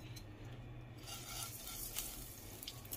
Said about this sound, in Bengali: ফুলকপি ভেজে নিব।